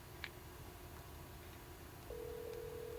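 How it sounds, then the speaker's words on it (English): An iPhone 12 accidentally places a 911 emergency call. After a faint click and near-silent hiss, a steady electronic calling tone starts and holds, soft and alone. "I've already accidentally called 911."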